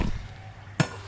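A thrown circular saw blade strikes a log outdoors with a single sharp metallic impact, followed by a brief ringing vibration fading out.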